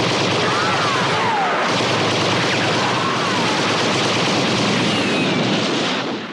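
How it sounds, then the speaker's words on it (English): Crater guns firing in a Bond film, a dense, continuous barrage of loud gunfire and booms that fills the whole stretch without letup. "Crater guns open fire."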